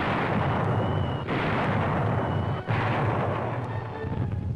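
Naval artillery fire supporting a 1944 amphibious landing: a dense, continuous roar of heavy gunfire and explosions with sharp bursts near 1.3 and 2.7 seconds, loud and rumbling throughout, with no voices.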